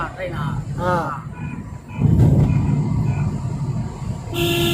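Passenger train in Araku Valley rumbling along with a steady low roar and a long horn blast near the end, while people talk over it close by.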